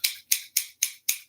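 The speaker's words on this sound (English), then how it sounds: "You need some scissors, good sharp fabric scissors." Good, sharp fabric scissors snip five times in an even rhythm, each cut a crisp, close, bright metallic swish with short silent gaps between.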